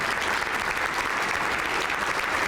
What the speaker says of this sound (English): we should give his lovely wife a round of applause for that